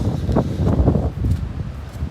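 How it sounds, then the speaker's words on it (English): Gusty wind from Hurricane Ian blows through trees by the water in Charleston, a steady rushing roar with rustling and microphone buffeting throughout. "So I wanted to show you the wind blowing the trees around a little bit there."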